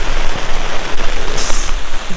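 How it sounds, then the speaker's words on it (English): Heavy rain pours steadily onto a tent, a dense, loud hiss of drops drumming on the fabric throughout, with no voices. "The rain's coming down hard."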